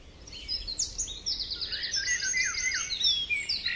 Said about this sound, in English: When birds chirp, they chirp really, really high.